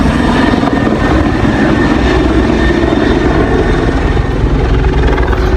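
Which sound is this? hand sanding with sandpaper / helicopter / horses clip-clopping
helicopter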